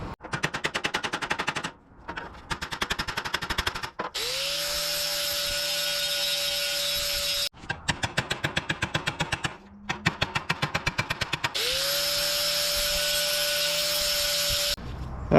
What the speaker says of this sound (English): I'm going to take my flapper sander disc here and get this smooth again